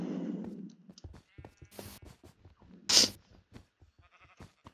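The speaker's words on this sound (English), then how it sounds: "Oh, there's a sheep in there." A video game sheep bleats once, short and moderately loud, in a Minecraft-style building session, with quiet game sounds around it.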